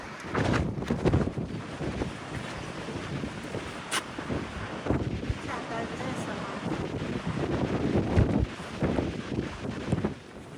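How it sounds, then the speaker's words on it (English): Strong gusty wind on the Nullarbor Plain roars and buffets against the microphone in uneven surges, rising and falling in loudness over about ten seconds. "Well, it's a bit windy"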